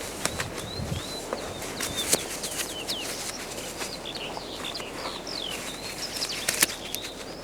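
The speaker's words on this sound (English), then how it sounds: "Can you hear the birds?" Birds chirping and singing outdoors on a windy day, with quick scattered calls over a constant rush of wind and occasional thumps.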